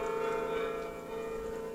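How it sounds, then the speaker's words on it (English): Church bells of St Mary ring out with a sustained, resonant metallic tone, the overlapping strikes blending into a steady hum at moderate distance. "I thought the bells were going to stop then, but they were just pausing for a breath"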